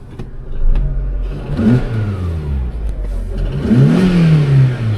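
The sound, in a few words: car engine revving with exhaust manifold leak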